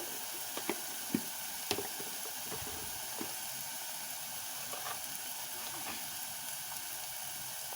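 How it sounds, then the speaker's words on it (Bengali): Spice paste with turmeric, Kashmiri chilli powder, roasted coriander and cumin sizzles quietly in a pan, a soft continuous hiss broken by a few sharp clicks of stirring. "দিয়ে আমি মশলাটা কষাচ্ছি।"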